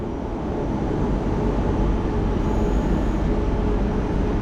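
A steady, loud rumble of a Lisbon-to-Sintra train rolling along the tracks, a constant low roar with rattling undertones and no break.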